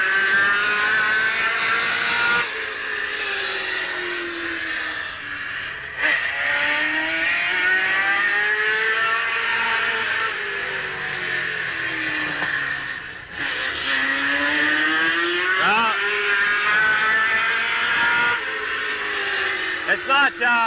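Race cars at a speedway during qualifying roar and accelerate around the track, engine pitch rising and falling repeatedly as they pass, loud and continuous, with a voice commenting over the noise.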